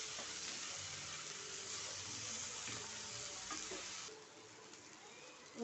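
Onions with ten or twelve cashews sautéing in a pan for a paneer butter kurma, giving a steady, soft sizzle and hiss throughout that eases off near the end.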